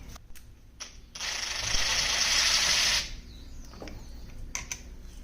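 A 13mm socket ratcheting a bolt on a 2014 Polaris Sportsman 570 during fuel and air system removal: a sustained burst of rapid ratchet clicking for about two seconds, close, framed by a few sharp metallic clicks.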